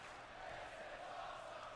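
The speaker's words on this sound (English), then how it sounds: "This is awesome chant from the crowd" A faint, steady roar of a large arena crowd chanting in unison in a WWE 2K wrestling match, sounding distant and washed together without distinct words.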